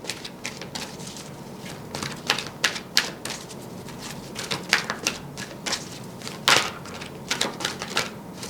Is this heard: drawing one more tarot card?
yes